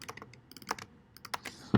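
Quick, uneven clicks of typing on a computer keyboard, close and fairly quiet, with a few sharper keystrokes and a louder tap at the end.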